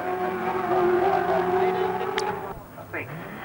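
Race cars brake hard into a corner: a loud, high engine drone cuts off abruptly, followed by rising and falling downshift blips and a brief tire squeal, with a voice talking over it.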